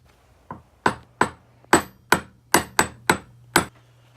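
A hammer strikes a socket about nine times to press a part into a Polaris Sportsman or Scrambler rear differential, giving sharp metallic knocks at an irregular pace over a faint steady hum.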